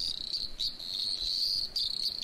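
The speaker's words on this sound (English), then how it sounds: "Swipe left on the frog species name to reveal the play button and hear the frog call." Frog call sample played back in the FrogID mobile app, a high, shrill, insect-like trill repeated in close bursts, clear and loud with no voices.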